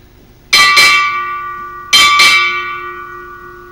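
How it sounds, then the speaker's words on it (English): A ship's bell rings four times in two quick pairs at a US Navy change of command ceremony, each strike loud and clear with a long, shimmering ring fading away. "Sound 4 bells."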